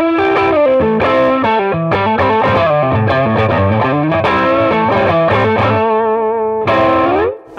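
Electric guitar run through a TS-1 overdrive stacked into a Klon pedal plays a fast, loud, close melodic lead line of crisp picked notes with warm mild drive, ending on a held note, with no talking.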